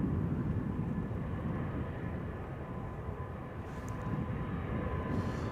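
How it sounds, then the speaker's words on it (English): A Turkish Airlines Airbus A330-300 from Istanbul lands at Amsterdam Schiphol with a broad, steady engine roar, rumbling loud at a moderate distance, sustained for several seconds without talk. "Turkish Airlines flight 1951 about to touch down already. Airbus A330-300 arriving from Istanbul."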